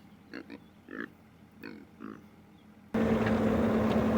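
Several soft pig grunts in an uneven series, fairly close, before a loud steady rumbling noise abruptly takes over.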